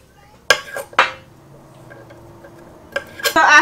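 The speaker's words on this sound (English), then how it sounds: "take my green beans and I'm just gonna start cutting off all the ends to them." Knife cutting the ends off fresh green beans on a cutting board in a home kitchen, a few sharp chopping taps and clinks followed by quieter handling and a clustered burst of cuts.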